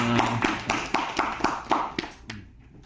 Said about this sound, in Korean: 우리 수고한 하영이 나라 팀에게 다시 한번 박수 주시다